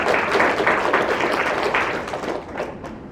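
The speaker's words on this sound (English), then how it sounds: "Hand of applause." Applause from a large conference crowd at the NatHaz disaster-recovery meeting: a broad, continuous clatter of many clapping hands, strong at first and gradually thinning out near the end.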